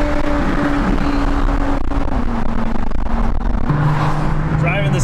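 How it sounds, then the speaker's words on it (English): A Dodge Charger Scat Pack drives under a loud, steady engine drone with a sustained tone that steps to a lower pitch near the end, and faint background noise runs throughout. "Driving the Scat Pack, baby."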